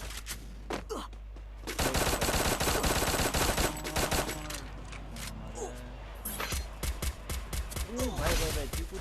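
Bursts of rapid gunfire from the Free Fire video game crackle in close and dense volleys, with automatic strings and single shots mixing over game effects, while someone talks over the action.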